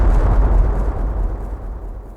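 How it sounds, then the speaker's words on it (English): A massive explosion at a station in the 2006 Windows adventure game Secret Files: Tunguska, heard as a loud, sustained deep rumble that slowly fades, with no talking. "That sounded like an explosion."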